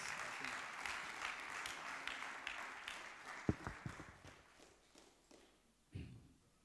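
Applause from an audience at a gathering of evangelists and pastors rattles on steadily, then thins and fades toward the end, with a few sharp knocks and a soft thump near the close.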